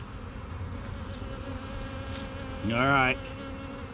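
A close, short burst of honeybee buzzing rises for about half a second over faint background noise at a hive, with a brief spoken remark nearby.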